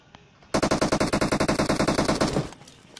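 Rapid automatic gunfire in the battle royale game BGMI, a single sustained burst of about twenty evenly spaced loud shots lasting two seconds, then quieter background game sounds.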